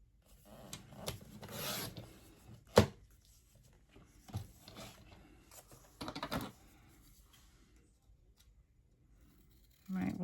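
Paper being cut with scissors for a holiday sketch banner, giving scattered rasping snips and rustles with a sharp snip near the start and a brief burst later, close and fairly quiet.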